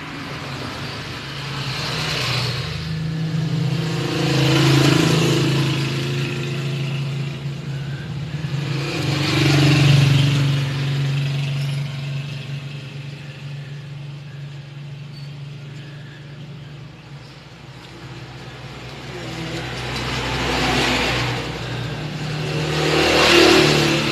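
A Honda TMX155 motorcycle engine revs up and down in several slow, swelling surges over a steady idling drone, loud and close.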